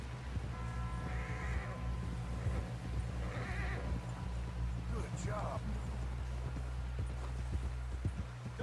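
A horse gallops in Red Dead Redemption 2 with rapid, steady hoofbeats and occasional whinnies, heard under spoken game dialogue and a low background hum.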